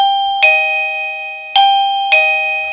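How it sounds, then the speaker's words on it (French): A Cozoney smart doorbell chimes three times as its button is pressed, each ring a bright electronic ding that rings out and decays in a quiet room. "La sonnette, elle, va fonctionner comme une sonnette si j'appuie dessus."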